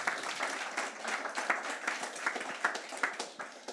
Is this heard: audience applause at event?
yes